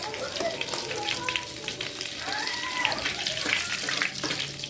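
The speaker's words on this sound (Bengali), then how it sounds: "এবার ফোড়নটা একটু ভাজা হবে" Whole spices, dried red chilli, cinnamon, bay leaf, cardamom and cumin fry in hot oil, giving a soft, continuous sizzle with light crackles and faint clinks of stirring.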